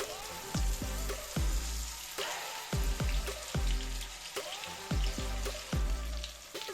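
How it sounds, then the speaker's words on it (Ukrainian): Chicken breast fillets seasoned with salt and pepper sizzle steadily in a pan of oil and butter, with a crackling, spattering hiss and recurring low thumps from the pan. "Посипаємо сіллю та перцем та смажимо до появи рум'яної скоринки"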